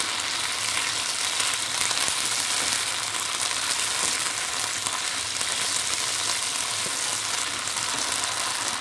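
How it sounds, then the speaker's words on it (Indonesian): Shallots, garlic, chili and tomato sauté in a pan with a steady, loud, even sizzle that holds throughout, with no talking. "akan tumis bawang merah, bawang putih, cabai, dan tomat ini hingga matang."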